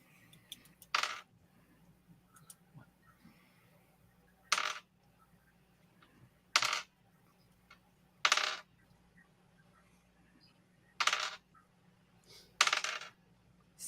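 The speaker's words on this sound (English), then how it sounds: "Sounds like halfling dice." Dice rolled on a table during a tabletop Dungeons & Dragons game: six short, sharp rattling bursts spaced a few seconds apart, fairly faint, with no talking.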